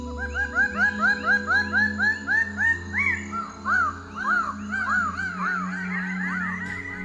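A greater bird of paradise, a crow relative, gives a loud run of rapid, ringing, rising-and-falling calls in steady rhythm, later overlapping in a denser chorus over a low, constant background drone.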